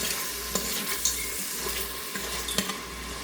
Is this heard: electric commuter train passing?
no